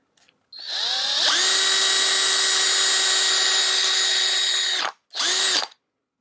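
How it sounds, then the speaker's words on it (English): A power drill boring through a thick homemade buffing wheel: a rising whine that holds a loud steady pitch for about four seconds, then a short second burst after a brief pause. "And drill it through."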